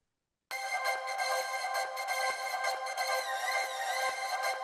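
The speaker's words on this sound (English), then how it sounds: "a fun kind of delay edit we made out of a vocal sample that we had" A processed vocal sample smeared by echoing delay repeats into a sustained, bright, ringing tone, steady and loud with faint rhythmic ticks underneath.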